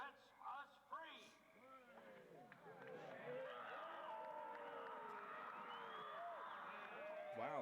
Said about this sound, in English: Wow, listen to the screaming.